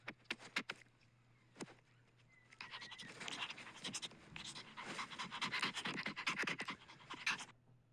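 A three-month-old puppy pants close to the microphone, starting with a few sharp isolated breaths that build into a rapid, continuous run of panting before stopping abruptly; nobody speaks.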